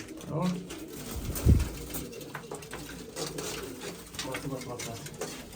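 A pigeon coos softly a couple of times near the start, among faint background rustling and a brief low thump.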